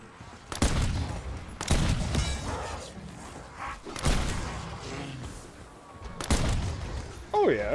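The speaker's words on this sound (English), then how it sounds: "Using hand cannon." Hand cannon gunfire in a Call of Duty zombies match on Liberty Falls: four heavy, booming shots spaced a second or two apart, loud and close, with game effects and clutter between them.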